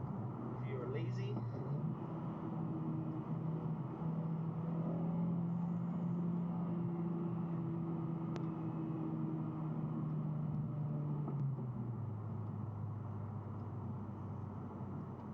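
Cabin drone of a 2017 Honda Civic Type R cruising, its engine tone stepping up and down as the auto rev matching shifts, steady and moderate under someone talking.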